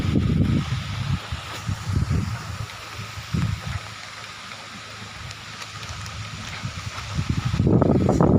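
Heavy rain and gusting wind roar steadily, with bursts of low rumbling buffeting against the microphone, growing louder toward the end.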